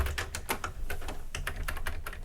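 Steady, brisk typing on a computer keyboard that may or may not be mechanical, with a quick uneven rhythm of close, distinct key clicks and no talking.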